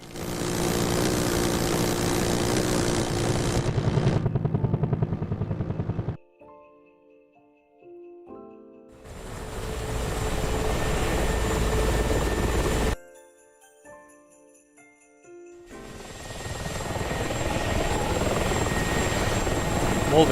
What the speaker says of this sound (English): Ogre in the Mi-24, still loitering around the area.